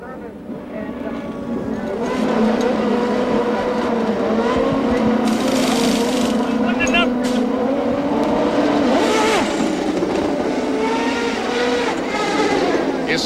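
A CART race car sits in the pit at Fontana in 2000 while crew work with the starter motor, engines roaring steadily with other cars passing, under continuous commentary.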